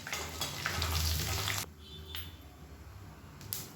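Curry leaves and two dried red chillies with spices sputtering in hot oil, a loud crackling sizzle for over a second that then drops away to a quieter simmer with a few light clinks.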